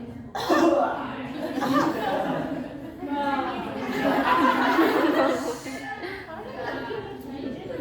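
Several coughs break out amid close talking in a childbirth delivery setting, with a little chuckling mixed in.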